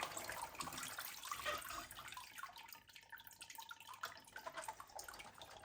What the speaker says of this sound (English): just drain the water out the back of it